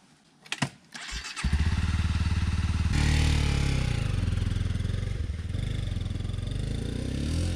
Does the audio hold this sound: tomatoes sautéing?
no